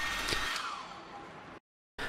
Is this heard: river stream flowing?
no